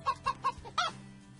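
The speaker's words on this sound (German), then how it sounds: "Ach, das Huhn." Video-game chicken from Farmerama clucking: three quick clucks followed by a higher squawk, close and clear, over faint background music.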